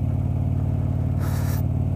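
Motorcycle engine droning steadily while riding a rutted gravel road after winter, a continuous low rumble with a brief burst of gritty hiss partway through.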